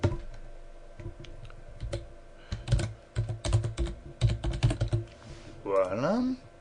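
Rapid bursts of typing on a computer keyboard while text is entered into a spreadsheet formula bar, keys clicking in uneven clusters up close, followed by a short voiced sound at the end.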